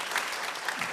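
A church congregation breaks into a brief burst of applause, with many hands clapping together in a dense, steady patter that lasts about a second.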